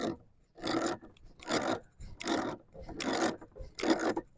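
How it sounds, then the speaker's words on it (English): A nut being tightened onto a yard hydrant's PVC fitting with gaskets, giving five rhythmic rasping, scraping strokes of a wrench, close and moderately loud, with brief pauses between strokes. "So I'm ready to tighten this nut."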